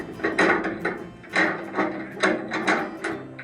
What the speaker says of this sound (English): have your long stem screwdriver, and then start unscrewing